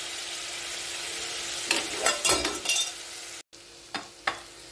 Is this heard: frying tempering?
yes